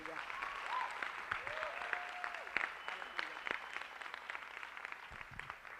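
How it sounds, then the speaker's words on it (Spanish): Applause from a crowd at a church youth retreat swells into steady clapping, fairly distant and mixed with voices and shouts. "Un aplauso más fuerte"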